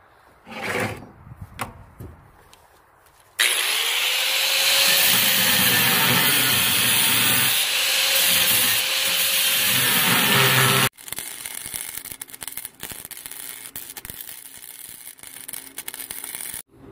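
A cutting wheel slices through scrap steel for a sea turtle metal sculpture, a loud continuous high-pitched grinding screech lasting several seconds, preceded by quieter handling clatter and followed by lower rattling workshop noise.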